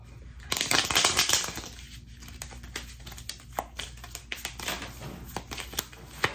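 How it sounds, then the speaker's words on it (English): A deck of cards is shuffled up close: a loud riffling burst, then a run of quick, sharp flicks and taps as the cards are squared and cut, with no talking. "Let's do our second shuffle."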